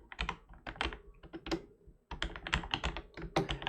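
Rapid bursts of typing on a computer keyboard, close and clear, with uneven clusters of key taps broken by a short pause midway, no voices.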